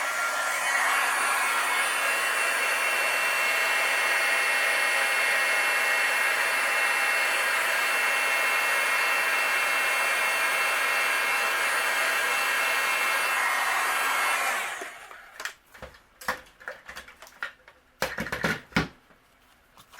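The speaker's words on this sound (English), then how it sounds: "And then I will use my heat gun and we'll melt it." A heat gun blows a steady, loud whooshing roar for about fifteen seconds while melting gold embossing powder on a Christmas card. It then cuts off, followed by scattered small clicks and taps of crafting tools nearby.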